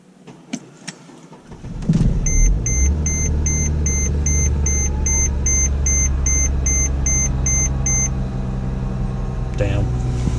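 A diesel Mercedes ML320 cranks and catches on a cold start after the glow plugs are cycled, settling into a loud, steady low idle rumble, with a repeating electronic chime pulsing over it for several seconds.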